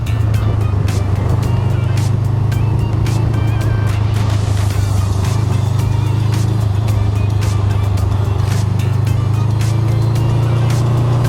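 Honda Rebel 500 ABS motorcycle ridden around a traffic circle, its steady engine drone loud and close throughout with wind buffeting, alone with no talk.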